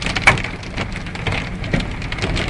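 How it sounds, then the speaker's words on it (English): Hail falls during a Kansas storm that may be producing a tornado, a loud, dense patter of hailstones striking hard surfaces close by with scattered sharper hits. "Just started hailing."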